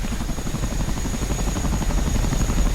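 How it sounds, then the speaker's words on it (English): An AH-64 attack helicopter in the DCS flight game shuts down its auxiliary power unit, giving a steady, fairly quiet broadband whirring rumble with a fast rhythmic throb and a faint high whine. "Let's go ahead and turn off the APU."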